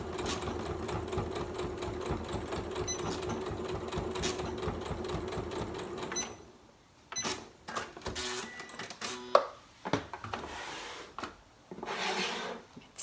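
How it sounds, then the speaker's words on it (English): Sewing machine stitching fabric and vinyl together with a quarter-inch seam, a steady rapid mechanical chatter for about six seconds, then stopping and giving way to scattered handling clicks and rustles. "I'm going to put this under the machine and sew them together here with like a quarter of an inch seam"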